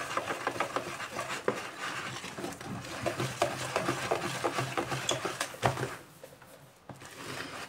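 Cake batter being stirred by hand in a bowl, a steady rhythmic scraping and swishing that runs on continuously at close range and fairly quiet, easing off briefly near the end.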